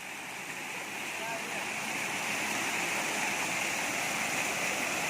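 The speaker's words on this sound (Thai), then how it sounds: "น้ำสวยเด้อ น้ำตกเย็นดี น้ำตกส่วนตัวนะคะ" A waterfall at Huai Tat, Ban Pao, rushes in a steady, broadband roar that stays close and loud throughout, with no talk over it.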